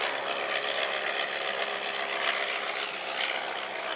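A Sopwith Triplane, a First World War biplane-era fighter built by Northern Aircraft, flying at a heritage airshow; its propeller engine gives a steady droning roar, moderately distant and continuous throughout.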